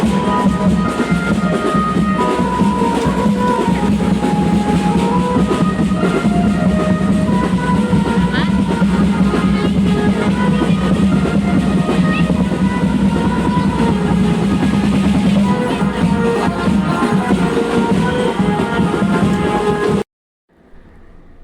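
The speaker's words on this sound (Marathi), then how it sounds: "I think metro." A metro train passes near Powai Lake, a loud sustained rumble with rhythmic wheel clatter for about twenty seconds before cutting off abruptly.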